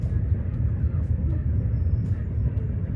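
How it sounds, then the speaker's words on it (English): A train rumbling past near a village, a steady low-pitched mechanical drone heard from nearby, continuous and even throughout with no voices. "they're so excited to watch the train"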